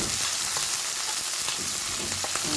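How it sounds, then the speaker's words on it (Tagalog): Shrimp sautéing in a hot pan, a dense, continuous sizzle and crackle of frying with a few faint stirring clinks, close and steady with no voices. "Ayan, gigisa natin yung shrimps."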